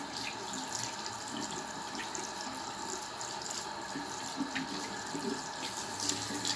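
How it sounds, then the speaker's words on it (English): A tap runs steadily into a sink during handwashing, a soft continuous splashing hiss with faint drips, heard alone at low level. "And you'll wash your hands for at least 20 seconds, but the recommended is 30."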